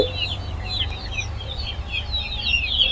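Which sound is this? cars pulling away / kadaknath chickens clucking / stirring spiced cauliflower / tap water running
kadaknath chickens clucking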